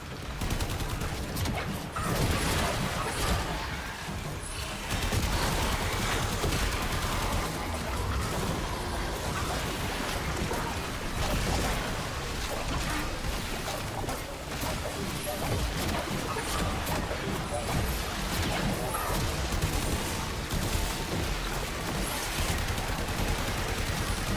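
Dense, sustained gunfire from shooting at sentients in the Warframe video game: a loud, continuous barrage of overlapping shots and impacts with no break and no talking.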